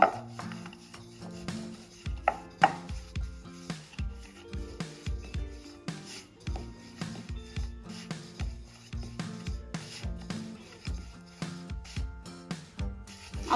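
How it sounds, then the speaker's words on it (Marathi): A rolling pin works thin methi thepla dough on a board, giving soft rhythmic knocks and rubbing thumps that repeat steadily, close and fairly quiet, with faint background music. "आता इथे कोरडं पीठ लावून घ्यायचं आणि थेपला छान पातळ लाटून घ्यायचा"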